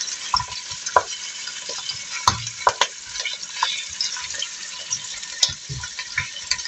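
Chicken pieces being turned in a hot pan and browning, a close, steady sizzle with clicks and scrapes from the utensil and no talking.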